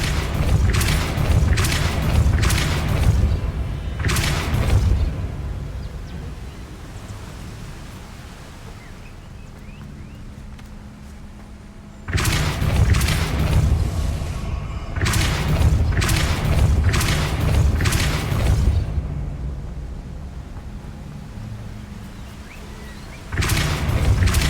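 Depulso spell casts in Hogwarts Legacy land as heavy booming thumps, several in quick clusters with quieter ambience between groups, loud and close.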